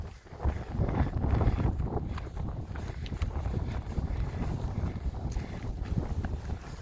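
Strong wind blows across an exposed hilltop in the Yorkshire Three Peaks, a loud, steady roar buffeting the microphone for several seconds with no talking.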